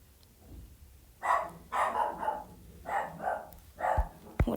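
A pet dog barks in short repeated bursts from somewhere in the room's background, with clusters of yaps spread across a few seconds and a couple of sharp thumps near the end.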